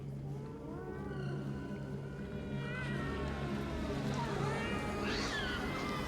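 Drawn-out, wavering cat meows in the video game Alone in the Dark rise and fall over a low background hum, repeated several times at moderate loudness.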